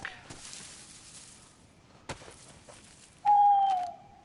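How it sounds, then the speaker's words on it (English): An owl in the video game DayZ gives a loud, close, steady hoot near the end, after faint rustling ambience and a single sharp knock. "There's lots of owls"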